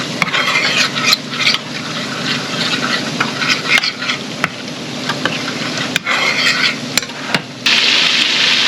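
A spoon stirs flour and fat for a roux for milk gravy, scraping round and round a sizzling pan with loud, continuous rubbing strokes and occasional knocks against the side.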